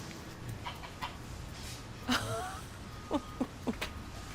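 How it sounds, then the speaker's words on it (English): A pet goose calls outdoors in Los Angeles, California, giving one honking call followed by a quick series of short clucking honks, fairly close over quiet background noise. "he was befriended by a goose named Maria."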